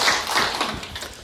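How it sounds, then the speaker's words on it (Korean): A crowd at a redevelopment association briefing claps briefly, a short uneven burst of hands from a roomful of members, fairly close and fading quickly. "우리 조합원님 박수를 한번 칩시다"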